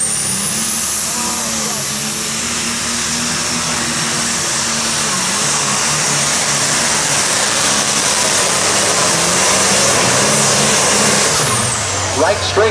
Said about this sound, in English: Superstock sitting back here in the back, letting him warm up a little bit to get a little heat built in that engine.